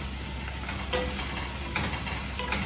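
Ingredients for a bread-slice lasagna are stirred in a hot pan, giving a steady close sizzle and hiss with a few soft scraping touches, no voices.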